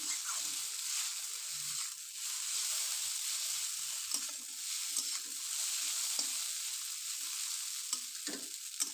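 Fried egg bhujia is stirred into chow mein in a hot pan, a steady sizzle and hiss under scraping spatula strokes, close and continuous with no talking.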